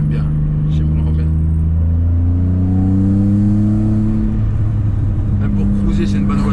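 A Peugeot 406 V6 engine revs steadily, its pitch climbing and settling in smooth sweeps, loud and close, with a low rumble throughout.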